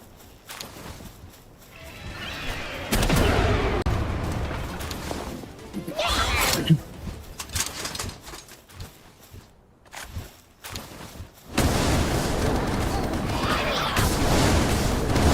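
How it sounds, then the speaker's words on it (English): A meteor launcher in the Palworld video game fires and explodes in a few heavy booms and crashes, with loud bursts and rumbling impacts separated by quieter gaps, ending in a sustained noisy roar. "Rocket launcher works. Well, meteor launcher."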